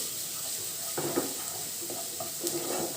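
Marinara sauce bubbles and sizzles steadily in a pan while a spoon stirs through it with soft, intermittent scraping strokes, close and moderately quiet, with no voices.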